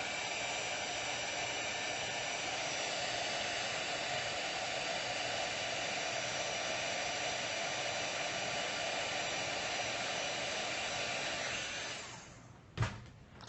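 A heat tool blows hot air over a craft project in a steady, loud, whooshing roar. It runs unbroken for a long stretch, then shuts off with a brief clunk at the end.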